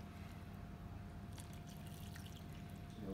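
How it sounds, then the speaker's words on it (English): Beef stock is poured into a cooking pot with a faint, steady trickle and splash, fairly quiet and continuous for a few seconds. "What I am going to do is just pour some of that in."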